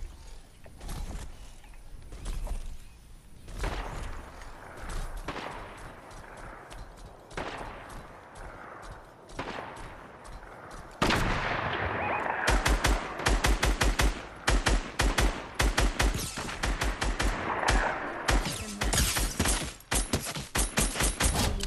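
Rapid gunfire from a video game match: scattered shots early on, then from about midway dense automatic bursts of fast, loud, crackling reports that keep going almost without pause until the end.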